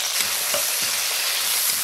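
A spicy hot pot base of red chili meat sauce, Sichuan peppercorns, hot pot seasoning and doubanjiang sizzles loudly and continuously in a wok, with soft scraping stirs throughout.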